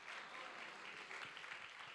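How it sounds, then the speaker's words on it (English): A church congregation claps together in a steady, dense burst of applause that fills the space, soft and somewhat distant. "If you believe, clap your hands"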